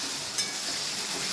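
Tomato masala frying in a pan while being stirred, giving a continuous, moderately quiet bright sizzling hiss with one brief scrape of the spoon early on and no speech.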